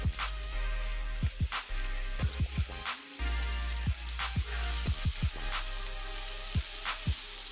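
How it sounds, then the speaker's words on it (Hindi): Garlic and ginger paste fries in oil for keema, a steady close sizzle running throughout with scattered sharp pops and spatters, no voices. "इसे हल्का हल्का फ्राई कर लेंगे।"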